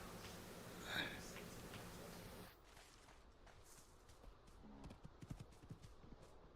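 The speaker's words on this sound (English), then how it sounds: "There's a horse there." Horse hooves clip-clop in a video game, a run of soft, irregular footfalls that follows a louder stretch of ambient game sound.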